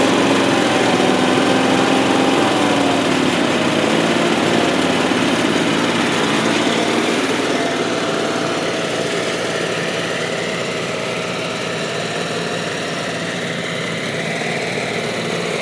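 Small garden tractor engine idling, a steady close mechanical drone with a faint tonal whine that drifts slightly lower and softer partway through, running continuously with no talk.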